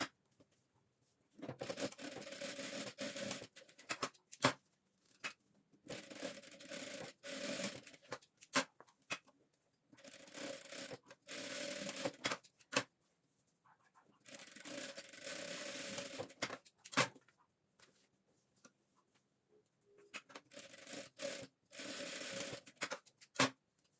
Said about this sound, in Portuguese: agora eu vou costurar quadradinho um no outro